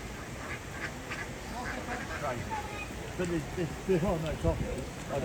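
Ducks quacking at a town bridge over a river where people feed them and trout compete for food; several quacks grow busier toward the end over steady outdoor ambience, with a person talking faintly nearby.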